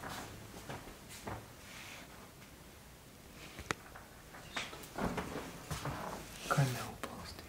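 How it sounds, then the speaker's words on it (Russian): A camera dropping off a door inside a dark apartment, a thin knock followed by soft scraping and clattering, faint and close, with hushed voices talking around it. "Камера упала с двери."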